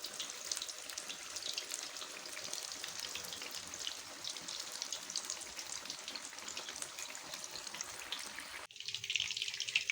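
Masala-coated fish pieces fry in hot oil in a pan over medium heat, a continuous crackling sizzle that holds steady before a brief change in tone near the end.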